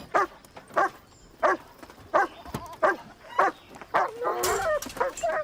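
A dog barks in a steady, evenly spaced series of sharp, loud barks close by, ending with excited whimpering and yelping.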